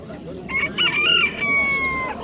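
At a busy poultry market in Samarkand, a rooster lets out a long, loud crow close by, with hens clucking around it and faint crowd murmur underneath.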